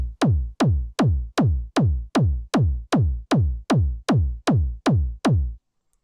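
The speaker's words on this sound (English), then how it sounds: "First we have the kick drum that sounds like this." Fourteen punchy hard techno kick drums made with the Thump One plugin thump in a steady, even beat, each with a deep booming body and a sharp click, then stop.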